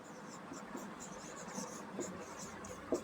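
Pen on paper writing out an arithmetic progression during a Class 10 NCERT maths lesson: a steady run of soft, scratchy strokes, close and fairly quiet, with no talking.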